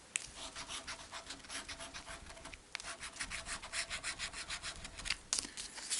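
BANCO scratch-off lottery tickets being scratched: a steady rapid rasping and rubbing, close and fairly quiet, continuing with a brief pause partway through, no voices.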